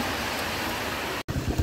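Heavy rain pours down outdoors as a dense, steady roar of close, loud hiss with no voices, cut by a sudden brief dropout before it resumes.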